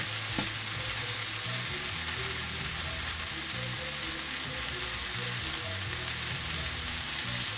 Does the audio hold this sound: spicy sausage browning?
yes